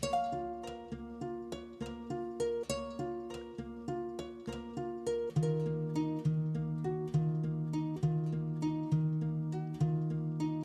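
An ethnic-style guitar loop slowed by a halftime effect, plucked melodic notes over a steady repeating low tone, looping evenly at a relaxed tempo, full and close without any speech.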